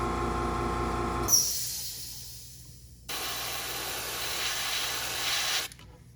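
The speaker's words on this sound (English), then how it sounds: "Air compressor got the camera wobbling." An air compressor hums at close range while crankbaits are spray painted, then gives way to bursts of hissing airbrush spray, one long hiss after another separated by a brief drop, with no one speaking.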